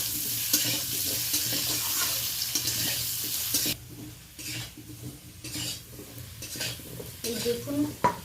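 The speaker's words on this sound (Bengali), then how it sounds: "লবণ হলুদ দিয়ে আলুটা ভেজে নেব।" Potatoes fry with salt and turmeric in a pan, a steady close sizzle with repeated scraping stir strokes and clinks of a utensil against the pot, the hiss easing partway through.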